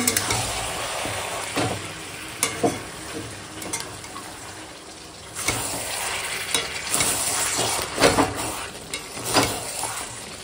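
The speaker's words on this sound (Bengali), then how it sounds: "মাংসটাকে দেখো কত সুন্দর করে কষাচ্ছি" Mutton (rezala-style goat meat) with spices being stir-fried in a pan, steady sizzling broken by repeated scraping and stirring strokes, close and fairly loud with no talking.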